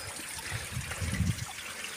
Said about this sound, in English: Bit of a natural spring.